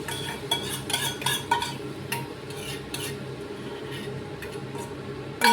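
Chicken being mixed with turmeric, chili powder and green chili and black pepper pastes, heard as wet stirring and repeated clinks of a spoon against a bowl or pot, close and moderately loud, no talk.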